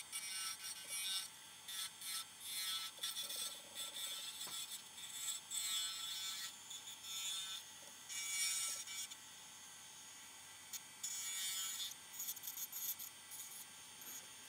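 Turning tool cutting a ring into wood on a lathe, producing bursts of close, bright scraping and hissing as the tool bites in and lifts off, with the faint hum of the spinning lathe in the gaps.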